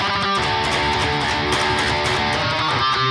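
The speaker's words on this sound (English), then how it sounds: "So guitar 1 will sound like this for the bouncy riff." A heavily distorted electric guitar chugs through a bouncy, syncopated metal riff. The sound is loud, dense and continuous throughout the short passage.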